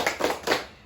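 Schoolchildren in a classroom clap three quick beats of a rhythmic spirit-clap cheer. The claps are soft and slightly distant, and brief quiet follows them.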